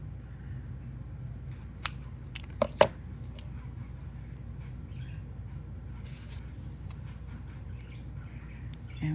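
Scissors snip through a piece of card for a handmade bow card: a few sharp, close cuts clustered near the middle, with a steady low hum underneath and no talking.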